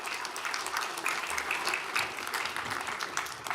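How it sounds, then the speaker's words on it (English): At a county board of supervisors meeting, a room of attendees gives a modest round of applause for years of service, the clapping steady but fairly quiet and distant. "let's give one more big round of applause for those years of service."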